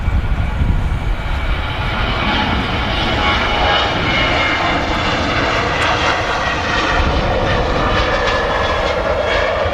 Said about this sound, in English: Sun Express 737 on the roll.